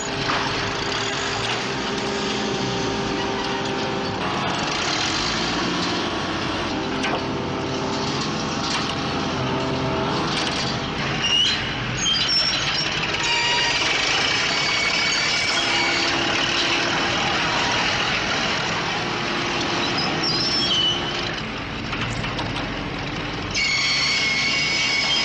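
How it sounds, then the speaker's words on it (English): A 600 horsepower crane engine strains to lift a large stone block, a loud, unbroken mechanical roar and grinding that runs steadily for the whole stretch, with no talk over it. "Using a 600 horsepower crane,"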